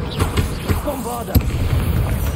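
An Avada Kedavra killing curse cast in the Hogwarts Legacy video game lands as one sharp, loud pop partway through, among softer thuds and a warbling tone, with some vocal sound around it.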